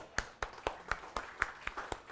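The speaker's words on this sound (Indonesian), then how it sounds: "Tepuk tangan bersama." A church congregation claps together at a Sunday service in a steady, even rhythm of about eight claps, fairly soft and without talk.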